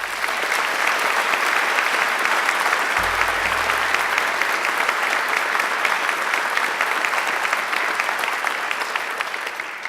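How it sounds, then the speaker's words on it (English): A graduation ceremony audience at Macquarie University applauds a speaker with loud, dense, sustained clapping for about ten seconds, steady throughout and easing slightly only at the very end. "she deserves a great round of applause"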